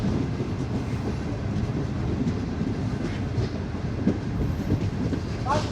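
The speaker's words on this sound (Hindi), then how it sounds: "अब पाकिस्तान एक्सप्रेस के इंतज़ार में यहाँ पे आए हुए हैं। और हो सकता है ट्रेन हमारी यहाँ पे रुके।" The Pakistan Express rolls through a station with a steady, dense rumble and rhythmic wheel clatter along the rails. Faint squeals rise near the end of the pass.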